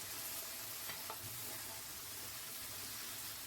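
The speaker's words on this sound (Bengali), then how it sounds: "পেঁয়াজ কুচি, কাঁচামরিচ কুচি দিয়ে আমি আবার ভেজে নেব" Chopped onion, green chilli and tomato fry in a pan with a soft, even sizzle and faint crackle, quiet and continuous, with no voices.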